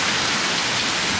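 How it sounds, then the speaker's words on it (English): Heavy rain pours steadily outdoors in front of a home with American Bully dogs, a dense, continuous hiss of drops striking surfaces, loud and unbroken throughout with no voices. "when it rains like this, to this magnitude"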